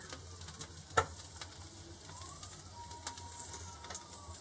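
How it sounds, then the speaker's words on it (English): Soft, steady sizzling and crackle of brisket fat dripping onto the hot grate and reverse flow plate of a Shirley Fabrication smoker, quiet and close, with a single sharp metallic tick near the start. "Got some sizzling going on the grate, on the reverse flow plate."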